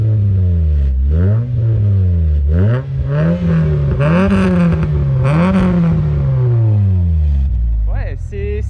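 The Mitsubishi Eclipse from Fast and Furious revs repeatedly, its engine note climbing and falling in loud, close sweeps with a thin high-pitched edge at the top of each rise.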